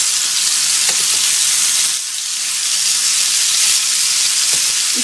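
Beef dum kebabs fry in a pan on one side with a steady, dense sizzle. A brief dip comes near the two-second mark, along with occasional small crackles, and no one speaks.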